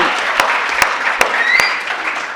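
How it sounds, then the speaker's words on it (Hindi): Dense applause from an audience at a Hindi humorous poetry gathering in Indore, a steady wash of clapping with a few sharper individual claps standing out, filling the whole short stretch with no talking. "जोरदार तालियां जरा"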